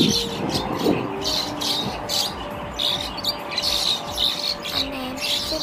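Starlings, common starling and white-headed starling, call in a steady busy stream of chirps and squawks, several birds overlapping at moderate distance with no pauses.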